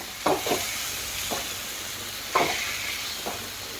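Onions fry with masala in a pan, a steady soft sizzle broken by several scraping stirs of a spatula, moderately close and with no talking.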